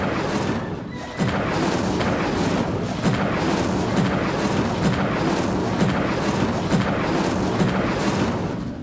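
Incendio fire spell cast repeatedly during combat in Hogwarts Legacy, a dense, continuous roar of fiery bursts and booming impacts with rhythmic pulses throughout, loud and sustained with no talk.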